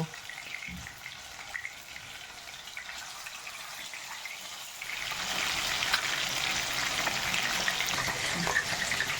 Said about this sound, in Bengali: তেলটা গরম হয়ে গেছে, এখন আমি একে একে সব মাছগুলোকে ভেজে নেব।